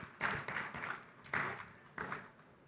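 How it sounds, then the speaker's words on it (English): An audience at an Indian industry keynote chat applauds, soft swells of many hands clapping that rise and fade several times, heard from a distance. "So really, a big round of applause to each of you first."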